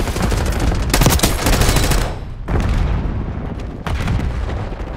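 Heavy gunfire in a Call of Duty match: loud bursts of automatic fire and booming shots in clustered volleys, broken by short pauses, with no talk over them.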